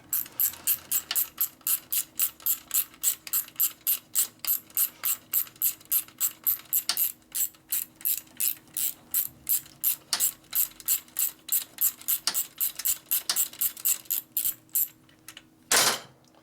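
A coarse-tooth ratchet wrench clicks steadily in rapid bursts while working on a Harley-Davidson FXR exhaust, with a broken exhaust stud, each stroke giving a loud, close run of sharp mechanical clicks and a brief pause between them.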